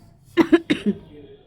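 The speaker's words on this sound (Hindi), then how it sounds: "थोड़ा सा खांसी आ गया था" A few quick coughs in a row, close and fairly loud, followed by a faint hum of background noise.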